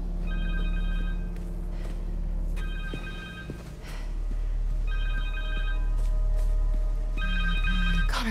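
A cell phone rings in the Spider-Man 2 video game, its electronic ringtone repeating in four evenly spaced bursts over a loud, steady low rumble.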